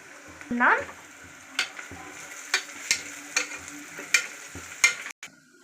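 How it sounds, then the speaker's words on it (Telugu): Curry leaves go into hot oil in a pan, a quick crackle followed by a low steady sizzle and a run of regular clinking stirs against the pan, close and without talk. "ఇప్పుడు కరివేపాకు వేసుకుందాం."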